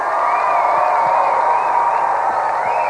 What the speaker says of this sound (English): Round of applause for Simon